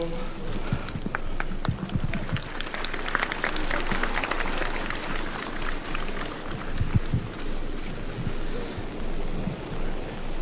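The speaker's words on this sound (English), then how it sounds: "Applause from the people." Crowd applause rings out at the commissioning of the Kisumu Shipyards ship launch in Kenya, a dense, steady wash of clapping that lasts the whole stretch over a faint outdoor background.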